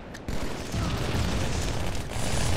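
Grenade explosion in Halo: The Master Chief Collection multiplayer: a sudden loud blast that rolls into a sustained rumbling roar for a couple of seconds, heard alone and up close.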